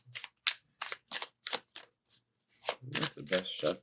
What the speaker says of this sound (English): let's go ahead and give this a shuffle